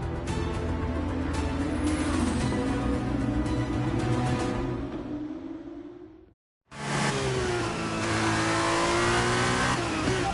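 An F1 23 race car leaves the pits on brand-new tyres, its engine revving loudly with a rising pitch that cuts out briefly before roaring back up through the gears, close and continuous.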